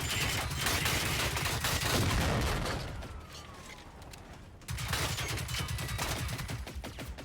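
Rapid gunfire in the video game Generation Zero, dense bursts of shots in two loud volleys separated by a brief quieter lull, with no voices over it.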